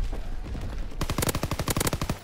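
Rapid bursts of automatic gunfire from a video game shooter, a dense rattling string of shots that starts abruptly after a murky lead-in and stays loud and close until the end.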